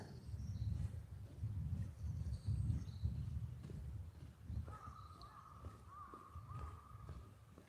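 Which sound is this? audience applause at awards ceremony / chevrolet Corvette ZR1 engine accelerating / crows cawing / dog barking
crows cawing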